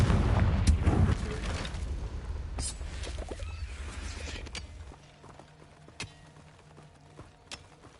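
A Confringo fire spell cast in Hogwarts Legacy: a heavy rumbling blast up front that fades into a few sharp fiery cracks and pops over a low background, without talk.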